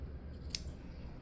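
A single crisp snip of scissors cuts the loose end of crochet yarn, close and quiet against a faint low background hum.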